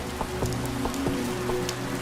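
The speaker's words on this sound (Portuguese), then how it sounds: "Aí quando eu saí, tava chovendo demais." Heavy rain pours steadily and loudly through a nighttime outdoor scene near a parking lot, a dense continuous hiss with scattered drop impacts and low background hum, no voices.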